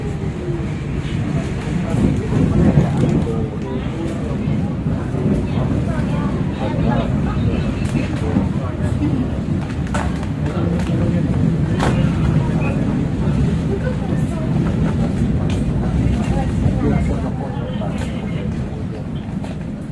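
A Lokal Bandung Raya passenger train hauled by a CC 203 locomotive departs Cirayom station, heard as a steady, loud rumble and roar with faint rattles throughout.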